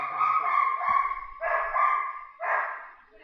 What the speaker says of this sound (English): my dog was there and my dog decided it's hooting and hollering time